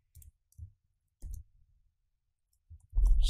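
Several separate bursts of clicking keystrokes on a computer keyboard while code is being typed, short quiet gaps between them and a louder cluster of keys at the end.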